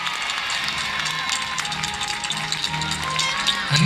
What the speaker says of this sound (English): a big cheer for the cleverest boy and girl in the school